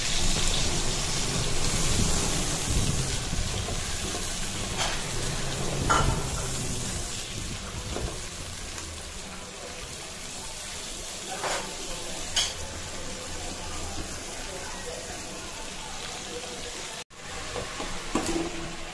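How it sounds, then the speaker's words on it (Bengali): Prawns coated in turmeric and salt frying in a pan, a steady close sizzle with occasional sharp clinks and scrapes of stirring and a brief cut near the end. "এবার প্রথমে চিংড়ি মাছগুলোকে ভাজি করে নিচ্ছি"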